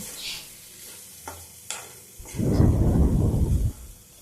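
Potato fry with onion and tomato being stirred in a pan: a few light scrapes early on, then a louder burst of sizzling and stirring for about a second and a half, with no talking.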